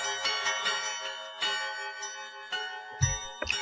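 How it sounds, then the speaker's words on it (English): A bell sound sample repeatedly triggered in a Max/MSP Monome sequencer, bright ringing strikes with sustained harmonic tones, several overlapping hits in an irregular pattern, played alone with no voices. "We're gonna use a bell sound"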